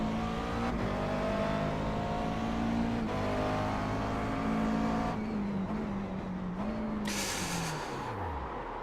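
A McLaren MP4 12C racing at VIR in iRacing, its engine droning loud and close as it climbs through the gears with shift dips, then winding down near the end with a brief hiss.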